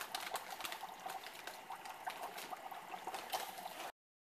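Dry ice in hot water bubbles and fizzes continuously, a dense close burble of popping bubbles for a few seconds before it cuts to silence.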